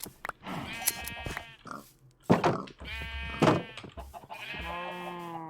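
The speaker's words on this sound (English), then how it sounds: "No, I think it's sheep." Several sheep bleat in Minecraft's Create mod, a set of drawn-out, wavering cries heard close and loud, one after another with brief pauses between them.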